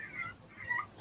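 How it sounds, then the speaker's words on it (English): A young puppy whimpers softly in one brief, faint burst of high, thin whining. "do I hear a baby puppy?"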